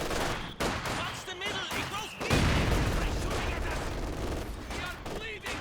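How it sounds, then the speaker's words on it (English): Gunfire and mortar blasts from a Company of Heroes 2 battle: dense, continuous volleys of small-arms fire with heavy booming impacts partway through, loud and close, with a voice talking over the combat. "the mortar starting to bomb away as well"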